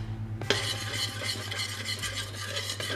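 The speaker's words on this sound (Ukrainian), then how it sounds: "І ось так перемішуємо." Flour is stirred into melted butter in a pot, a short scraping, soft gritty stir that begins abruptly and continues with a faint sizzle under a steady low hum.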